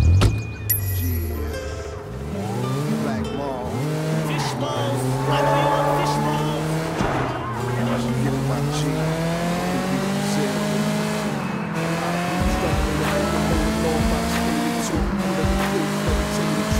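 Racing car engine in the video game Sleeping Dogs, revving and climbing through gears in a steady loud drone with tire squeal and other cars, while voices talk over it throughout.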